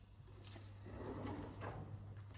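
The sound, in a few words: bedside table drawer being pulled out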